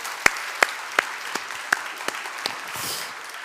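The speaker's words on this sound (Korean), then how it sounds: "우리 찬양대를 위해서 박수 한번 할까요?" A church congregation gives brief, scattered applause for the choir after its hymn. A handful of distinct claps sound over a soft background murmur and taper off quickly.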